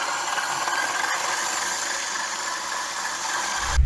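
An electric whisk beating cream cheese icing with lemon juice, giving a steady buzzing whir with a faint rattle that holds constant for several seconds before a clunk at the end; no one speaks.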